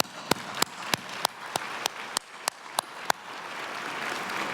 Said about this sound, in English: join me in a round of applause for all of the volunteers and the great staff